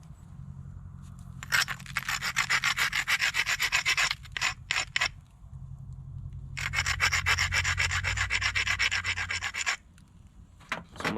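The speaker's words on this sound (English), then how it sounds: "So I'm gonna grind that really heavy there." A flintknapped stone edge being ground hard against an abrasive, with long bursts of harsh rasping strokes in rapid rhythm, close and loud, broken by a brief pause and a few separate scrapes, no talk.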